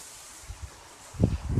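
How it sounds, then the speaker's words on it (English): Gusty wind buffets the microphone with low, rumbling thumps and a soft hiss, growing stronger toward the end. "this is a really, really, really windy day"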